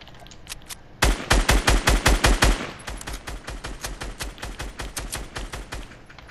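Rapid automatic gunfire in Fortnite, a sharp burst of closely spaced loud shots followed by a longer, quieter stream of steady rapid fire, with no talking.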